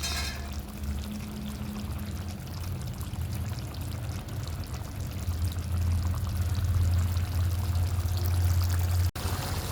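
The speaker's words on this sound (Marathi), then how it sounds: "जे शिजवलेल्याचं सूप होतं ते पण टाकून घ्यायचं आपल्याला" Cooked chicken soup is poured into masala frying in a pan for chicken rassa, a steady liquid stream running for several seconds with no talk.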